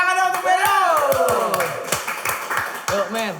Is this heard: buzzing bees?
no